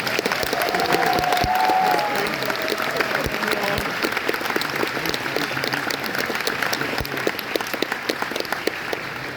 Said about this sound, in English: I think our registration team deserves a round of applause